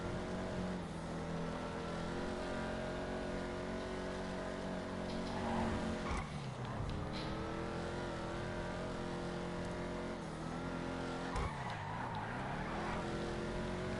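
Overflod Tyrant supercar in GTA Online, its engine droning steadily and close throughout, with pitch dips and revs around the middle and end as the tuned car loses traction and slides.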